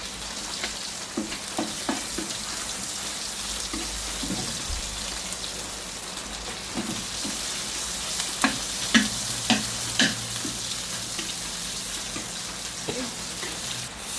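Red curry paste, two spoonfuls, frying in a pan for a spicy stir-fried pork head curry, giving a steady close sizzle with scattered scraping and stirring clicks throughout, no talking.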